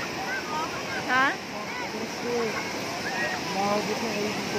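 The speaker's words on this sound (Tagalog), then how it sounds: "Ang lakas ng alon." Strong ocean waves rolling in at Balagbag beach front in Real, Quezon, a steady broad wash of surf throughout with voices talking over it.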